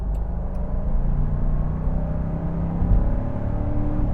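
Supercharged V8 in a Land Rover Defender 90, a steady low rumbling drone heard from inside the cabin as the engine pulls under acceleration, constant and smooth with no breaks.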